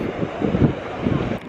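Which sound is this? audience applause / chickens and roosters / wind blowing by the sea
wind blowing by the sea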